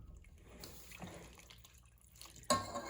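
Hot bouillon water is poured into a cooking pot for old-fashioned chicken and biscuits, a faint liquid trickle that swells into a sudden louder splash near the end, with no one talking.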